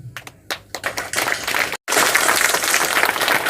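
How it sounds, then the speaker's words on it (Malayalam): Audience at a motivational program in Kozhikode breaks into applause, starting with scattered claps that swell into dense sustained clapping, briefly cut off by a short gap before resuming strongly. "ഒരു കീസോൾ കൈയടി അടിച്ചിട്ട് നമുക്ക് ആ പോയിന്റിലേക്ക് പോകാം."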